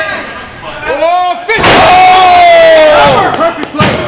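A loud wrestling crowd roars and chants at a live independent pro wrestling show, the cheering swelling into a sustained bellow that fills most of the moment.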